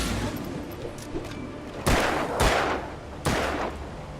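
Gunfire in the video game Alan Wake, three loud close gunshots with booming decay over a rumbling game background, spaced about a second apart after lighter earlier clatter.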